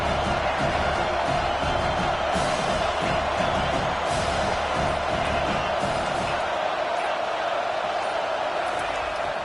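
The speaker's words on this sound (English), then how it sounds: "Here comes the crowd trying to make it tough on 3rd and long." Stadium crowd at an Ohio State versus Penn State college football game roaring on third and long, a loud sustained wash of cheering and noise with a commentator talking over it.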